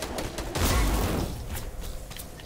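Gunfire in a shooter video game, a dense rattling burst that swells to a loud peak early on, then thins into scattered shots and noisy background for the rest.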